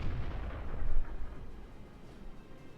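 A tank cannon shot lands and destroys an enemy vehicle in a video game, giving a deep booming blast with a heavy low rumble that peaks early and then fades into a lingering, quieter roar.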